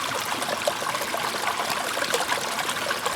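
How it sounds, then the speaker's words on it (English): Water trickles and streams steadily during gold panning outdoors, a continuous close babbling flow with no voices. "We got flowing water."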